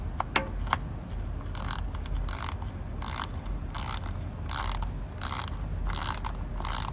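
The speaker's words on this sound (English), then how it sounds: "And again, preferably with a torque wrench." A ratchet torque wrench tightens a transfer case fill plug, giving a rapid series of clicking ratchet bursts in a regular rhythm, close and distinct over a low background hum, with no talk.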